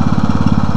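A tractor engine runs steadily while lifting a VW engine, a loud close-up chugging with a rapid, even pulsing beat and no voices.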